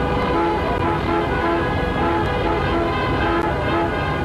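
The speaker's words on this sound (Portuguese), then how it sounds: "começa um buzinaço" Car horns blaring in a funeral procession for Ayrton Senna in São Paulo in 1994, a dense, loud, continuous chorus of overlapping honks with repeated tonal blasts.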